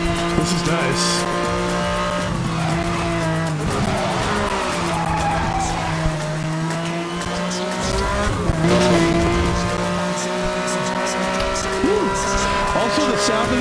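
A car engine in the racing game Need for Speed Hot Pursuit Remastered revs and holds steady, with tire squeals and skids over a continuous drone; someone talks over it throughout.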